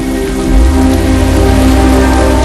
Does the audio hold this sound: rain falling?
yes